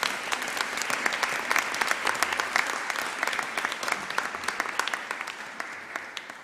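A hall full of people applauding honorees at a girls' high school awards ceremony, sustained, even crowd clapping with sharp individual claps standing out, with no talk over it.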